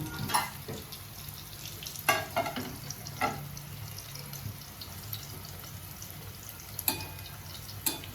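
Stuffed bitter gourds filled with masala are frying in oil, giving a quiet, steady sizzle with occasional soft knocks and crackles. No speech is heard.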